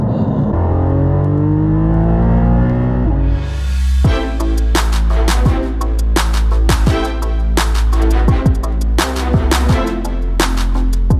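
Porsche 718 GT4 at an autocross: the flat-six idles loudly nearby, then revs hard and holds high rpm, with sharp throttle blips and snapping gear changes as it accelerates through the course.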